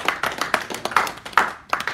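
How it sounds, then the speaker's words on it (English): Scattered applause from a small group, handclaps bunching into a few uneven bursts with brief lulls between them, fairly close and moderately loud. "Give him a round of applause for that, man"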